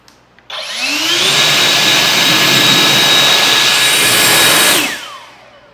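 A car detailing blower, Ego 765 CFM or Milwaukee 2724, blasting air over a car: a loud, rushing roar that spins up quickly, holds steady for about four seconds, then winds down.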